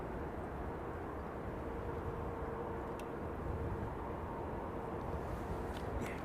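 A KC-135 jet aircraft at runway 27R, a steady broad roar of jet engine noise that holds at an even level throughout, with no talk.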